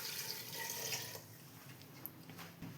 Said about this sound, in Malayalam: ഇതിലേക്ക് ഒരു 2 ഗ്ലാസ് വെള്ളം കൂടെ ഇപ്പോൾ ഒഴിച്ചു കൊടുക്കുകയാണ്.